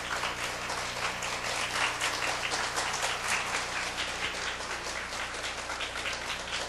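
Audience applause at a church mothers' prayer meeting welcoming a guest author to the stage, a steady dense wash of clapping sustained throughout with no voices.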